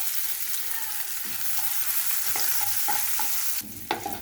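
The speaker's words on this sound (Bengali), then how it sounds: "এখন দিয়ে দিচ্ছি পেঁয়াজ কুচি।" Chopped onion hitting hot oil in a pan where ginger and garlic were just lightly fried, giving a steady close sizzle with a few stirring scrapes and a sharper burst of frying near the end; no one talks.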